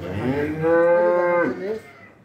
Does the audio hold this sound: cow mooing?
yes